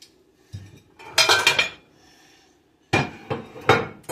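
A small spoon clinks and scrapes against dishes while deviled eggs are being made, in two close bursts of sharp metallic taps separated by a quiet pause.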